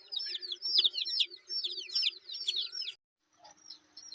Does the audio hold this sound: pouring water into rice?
no